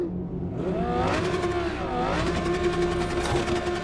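A muscle car engine in Cyberpunk 2077 revs hard and rough, its pitch climbing and dipping through two or three throttle swells over a steady, loud, close drone, with no voices over it.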